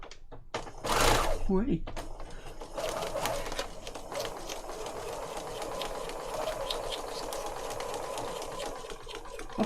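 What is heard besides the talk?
sewing machine stitching paper with coral thread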